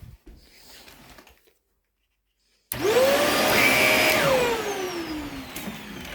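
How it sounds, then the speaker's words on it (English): A vacuum cleaner motor spins up after a brief silence, its loud whine gliding in pitch as it settles into a steady close-up roar. "Alright, there's that vacuum."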